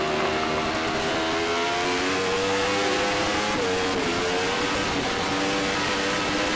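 Open Superbike class racing motorcycles scream past on a track at an AFM race, a continuous loud high-revving engine drone with shifting pitches from several bikes close together.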